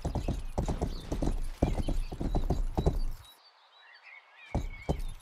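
Horse hooves clip-clopping in the video game Rustler, a quick galloping rhythm up close that cuts out briefly and returns at the end, with no talk over it.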